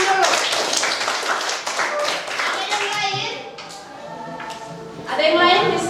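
Children in a classroom clap their hands together, loud and close, with a burst of quick claps. Young voices and chatter run through it, and the clapping swells again near the end.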